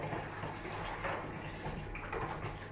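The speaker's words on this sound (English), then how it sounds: "if it isn't clattering, it's me doing washing up" Dishes are washed at a kitchen sink, with running water splashing steadily and a few soft knocks and clinks of crockery in the water, moderately close.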